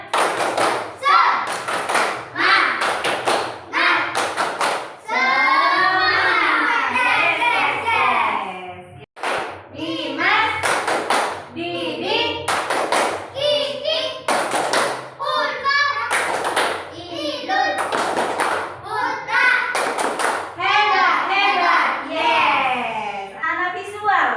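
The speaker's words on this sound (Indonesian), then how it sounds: "Tepuk semangat." A group of children does a rhythmic spirit clap in a classroom, with patterned bursts of claps and thuds repeating steadily while young voices chant and call along throughout.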